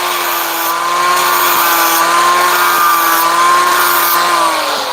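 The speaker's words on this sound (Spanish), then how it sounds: "Un disco flag es un disco con tramos de lija. Ahí acabamos de hacer un proceso de quitarle un poco ese borde filoso." Flap disc grinder sanding a sharp edge off a truck's front axle king pin part, a loud, steady, high-pitched whine with continuous abrasive hiss and slight pitch wobble, running alone for five seconds.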